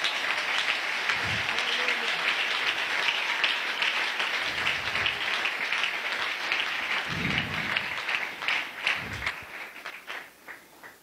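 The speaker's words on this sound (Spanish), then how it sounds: "Aplauso al Señor." A church congregation applauds during a Spanish-language worship service, a dense, steady wash of clapping that carries on for about ten seconds with a few low thumps, then thins and fades toward the end.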